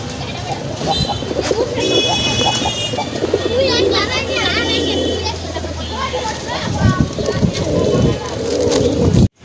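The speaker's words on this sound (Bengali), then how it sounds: "এটা হচ্ছে গিরিবাজের একটা জাত, এটা হচ্ছে বাঘা কবুতর।" Giribaz pigeons of the Bagha breed coo steadily through a crowded pet market setting, their soft calls blending with chatter, children's voices and background bird chirps.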